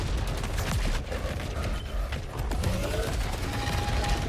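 Rifle fire in a video game against flying enemies, a busy spread of shots and impacts mixed with mechanical clatter and other game noise, fairly loud and continuous throughout.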